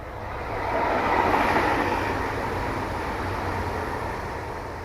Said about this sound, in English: So these trains that go past,